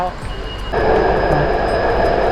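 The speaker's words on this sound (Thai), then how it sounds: "ตอนนี้เราก็กำลังนั่งรถไฟสีเขียวไปที่ เชียงไคเช็กเมมโมเรียลฮอลนะ" Steady rumble of a green metro train in Taipei heading toward Chiang Kai-shek Memorial Hall, growing louder and fuller after the first moment and holding as a continuous ride noise, with faint tonal whine on top.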